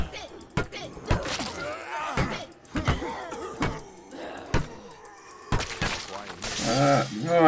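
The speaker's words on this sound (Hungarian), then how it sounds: "Kicsaptam az üveget" A glass window shatters in the State of Decay zombie survival game, several sharp crashing impacts and breaking-glass bursts mixed with game noise and a voice talking over it.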